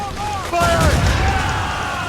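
Ship cannons fire during a naval battle in Assassin's Creed Rogue, a booming blast rolling out over game music and effects, with voices briefly heard.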